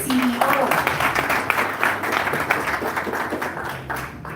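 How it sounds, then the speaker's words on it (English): Audience applause for the CEO at a FiberHome and CP Cables partnership event: a crowd clapping steadily and fairly close, with a voice briefly audible over the start. "Another round of applause for the CEO"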